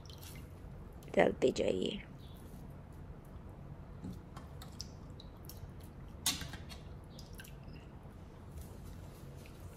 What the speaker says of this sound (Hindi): ये मैं इनका पूरा पानी एकदम से स्क्वीज करके पानी हटा के और बाउल में